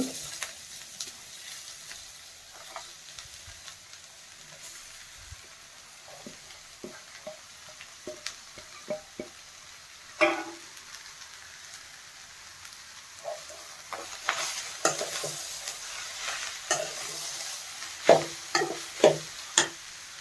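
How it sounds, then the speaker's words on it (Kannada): Dill greens fry with onion in a pan for a village-style side dish. A soft, low sizzle runs throughout, with scattered spatula scrapes and taps that grow busier toward the end. No one speaks. "ಆನಿಯನ್ ಫ್ರೈ ಆಗಿದೆ ಈಗ ಸೊಪ್ಪು ಹಾಕ್ಕೊತಾ ಇದ್ದೀನಿ"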